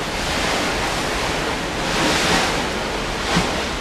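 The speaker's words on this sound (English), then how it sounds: "You can hear the waves beneath me." Waves churn beneath a cruise ship in Los Angeles Harbor, a loud broadband rushing wash with slow swells, mixed with wind buffeting the microphone, no one speaking.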